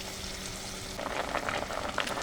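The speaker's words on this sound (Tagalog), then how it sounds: "unti-unti nang kumukulo yung ating chicken broth" Chicken broth in a pot starts to boil, giving a soft, close, steady bubbling hiss that gets a little livelier after the first second.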